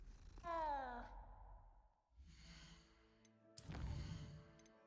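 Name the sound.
cat meowing in Hogwarts Legacy video game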